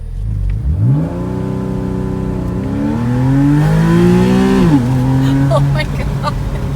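A 2014 Porsche Carrera S Cabriolet in Sports Plus mode accelerates hard from a start. Its engine note rises loudly and steadily, dips briefly at a gear change, then climbs again close by.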